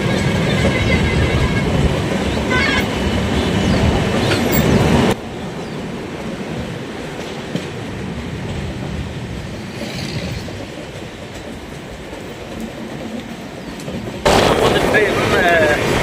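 The Brahmaputra Mail train rumbles loudly nearby with rhythmic rail clatter as it arrives at platform 2 of Dhupguri station, West Bengal, quieting to a steady low rolling noise before swelling loud again near the end.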